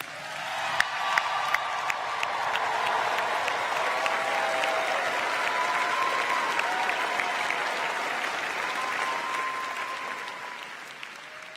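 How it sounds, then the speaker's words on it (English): A large crowd at the Brown School recognition ceremony applauds the graduates in a sustained, dense roar of clapping with a few cheers, swelling early and holding steady for over ten seconds. "give them a really healthy round of applause"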